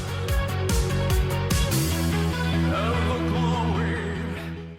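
An excerpt from an album opens with a few hard, punchy rhythmic hits, then settles into sustained layered synth-like tones and a wavering melodic line, steady and fairly loud.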